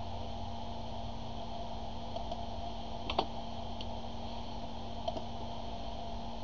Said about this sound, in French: Donc j'appuie sur une touche.